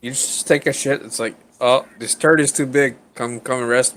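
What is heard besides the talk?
No everyday noise stands out behind the speech.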